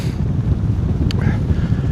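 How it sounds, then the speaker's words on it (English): Strong wind on a hilltop at Ben Hiant, Ardnamurchan, buffets the microphone in a steady low roar, brief and unbroken. "It is very, very windy up here."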